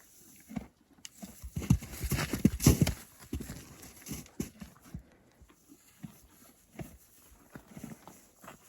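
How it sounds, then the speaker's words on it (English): A horse walks on hard ground, its hooves giving a close, irregular series of soft clip-clops, busiest near the start and then sparser. "Crazy horse."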